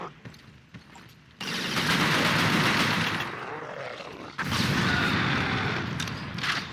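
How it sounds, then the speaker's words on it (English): A 40mm grenade launcher fires in a Resident Evil game. Two heavy, loud blasts each open with a sharp onset and fade into a long, broad roaring tail. "40mm grenades"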